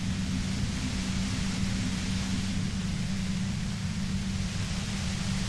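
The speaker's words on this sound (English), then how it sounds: "The violet-white noise becomes even more closer to the compressor." Violet-white noise effect from the video game Disco Elysium, a dense, steady broadband hiss with a heavy low rumble underneath, loud and unchanging throughout.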